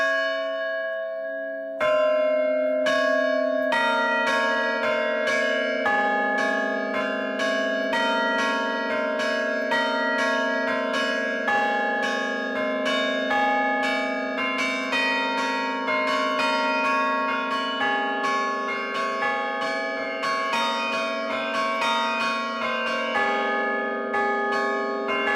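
Carillon church bells in the Chandolin belfry ring a lively, rhythmic sequence of clear tuned strikes, overlapping and resonating continuously, loud and close with no talking.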